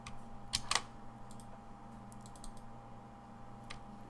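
Quiet keyboard typing at a computer: a quick cluster of clicks near the start, then scattered single keystrokes over a low steady hum, with no talking.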